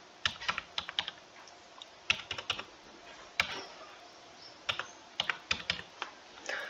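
Fingers type a number on a computer keyboard, quick clusters of crisp key taps in uneven bursts with short pauses between, close and fairly quiet, with nobody talking.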